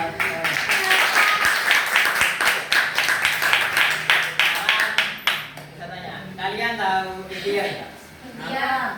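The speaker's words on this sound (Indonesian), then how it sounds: "Oke, tepuk tangan." High-school students clap together in a classroom, a dense burst of rapid hand claps lasting several seconds before tapering into scattered claps and talk.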